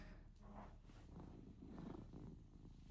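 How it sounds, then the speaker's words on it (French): A cat purrs softly and steadily, very close and quiet, with a low rumbling texture and no other sounds. "Vous entendez comme elle ronronne?"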